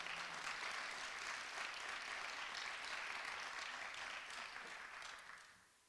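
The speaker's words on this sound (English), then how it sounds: "That's a round of applause, folks." A crowd at a school strategic plan launch claps in sustained, even applause that holds steady for several seconds, then fades out toward the end.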